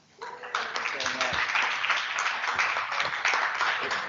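A crowd at an Ocean Race masterclass event cheers and applauds from the back of the room, a loud, sustained wash of clapping and whoops that swells quickly and holds steady throughout.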